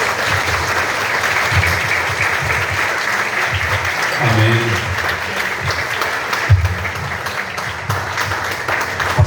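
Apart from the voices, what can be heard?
congregation applauding in church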